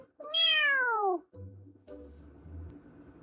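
One loud, close cat meow, a rising then falling drawn-out cry, followed by quieter low shuffling noises.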